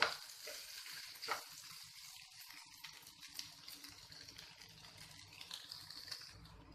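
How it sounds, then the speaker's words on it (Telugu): Sliced potatoes and onions frying in a pan for a potato onion curry, a faint, steady sizzle close by with a few soft stirring scrapes. "మళ్ళీ మనకు పొటాటోతో పాటు ఆనియన్స్ ఫ్రై అవుతాయి"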